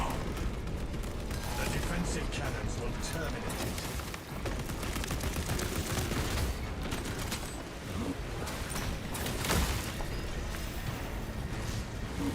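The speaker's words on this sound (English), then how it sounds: "The defensive cannons will terminate it." Defensive cannons fire at a towering Tyranid scourge in a video game, a dense run of booming, rattling shots and mechanical clatter that keeps up steadily for about twelve seconds.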